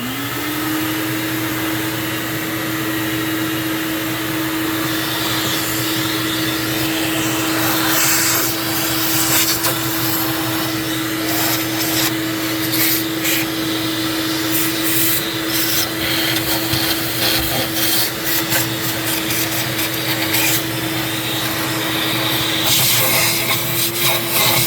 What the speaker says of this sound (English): So I basically just turn my vacuum on, shop vac on, and we're gonna suck that out.